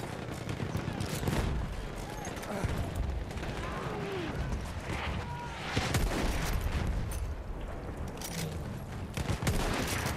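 Continuous battlefield gunfire in the multiplayer video game Battlefield 1, a dense mix of rifle shots, automatic fire and distant booms, with occasional sharper nearby shots and no clear talking.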